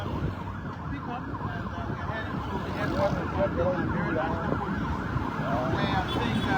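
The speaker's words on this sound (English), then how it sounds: "vehicles with siren" Several emergency vehicles run in a line with sirens through central Monrovia, Liberia, a continuous wailing blended with dense traffic noise and steady road rumble throughout.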